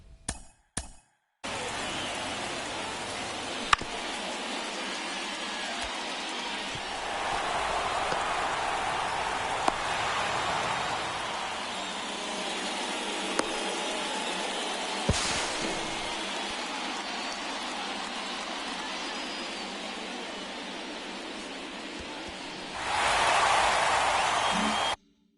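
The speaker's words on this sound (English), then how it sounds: "This rain is not letting up." Steady rain falls during a baseball game, a dense continuous hiss that holds for the whole stretch and swells in intensity now and then, with a few faint clicks and no clear talk above it.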